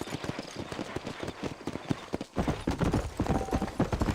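In Red Dead Redemption, a horse gallops in a fast, steady rhythm of drumming hoofbeats, close and clear with no talk over it.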